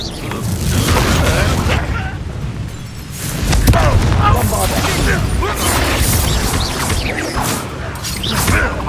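Confringo blasting curse explosions in Hogwarts Legacy: loud booms and crackling blasts with whooshes over a continuous rumble of game noise, the impacts overlapping and layered with shouting voices.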